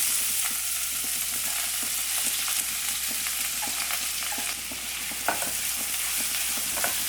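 Finely chopped large onion fries in a pan for a mushroom kurma, a dense steady sizzle under repeated scraping and clinking of a spoon as it is stirred, close and continuous with no talking.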